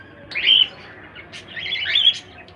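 A pair of lutino cockatiels in a breeding setup chirp nearby, giving shrill, scratchy calls in two short bursts with a quiet pause between them.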